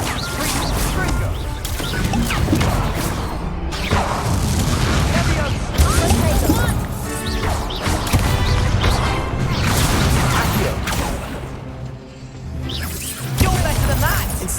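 Repeated Confringo blasting-spell explosions from a Hogwarts Legacy duel, a steady run of loud crashes and booms with game music and combat effects, with a voice calling out spells over the fighting.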